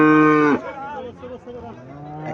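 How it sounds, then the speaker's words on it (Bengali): Healthy Haryana dairy cow at a cattle market lets out one loud, close, deep moo lasting about half a second, followed by quieter murmuring and background voices. "এখানে একটা গাভী দেখা যাচ্ছে, স্বাস্থ্য ভালো আছে গাভীর।"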